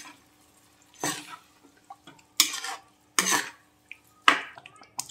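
Boiled mustard greens (sarson ka saag) stirred in a pot, four distinct wet scraping strokes with small clinks between them, close by and isolated.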